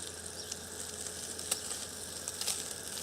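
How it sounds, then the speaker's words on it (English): Bacon frying in a pan alongside liver, a steady soft sizzle with light crackles and a few sharper pops, fairly quiet and close with no talking. "we're just going to wait for the bacon to crisp up"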